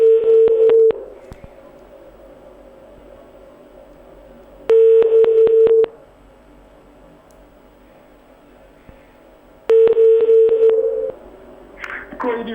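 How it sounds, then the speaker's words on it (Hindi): A telephone ringback tone sounds on an outgoing call in three clear, identical bursts a few seconds apart, with near silence in the gaps between them. "अब बेल जा रही है इस वक्त, ये दोबारा हमने फोन मिलाया है।"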